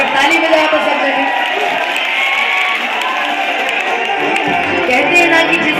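A large crowd at an outdoor gathering claps and cheers together on cue, a dense, continuous wash of applause and shouting that holds steady at a loud level.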